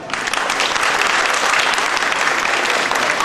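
An audience at a cultural stage program bursts into loud, dense applause, many hands clapping steadily and evenly throughout, with a faint crowd murmur underneath.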